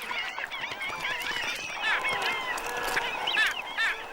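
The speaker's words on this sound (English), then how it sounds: "Birds take notice too." Waterbirds along Amazon waterways call in a dense, overlapping chorus of honking, goose-like cries, steady and fairly loud throughout.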